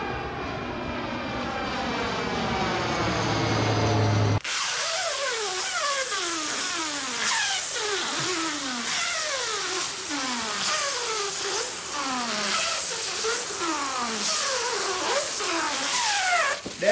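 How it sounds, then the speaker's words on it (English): A screechy, warbling tone sweeps up and down, then gives way to repeated squeaky tearing strokes in a fast rhythm as protective plastic sheeting is peeled off roof fascia trim, loud and close. "That was the sound of us taking off this protective plastic"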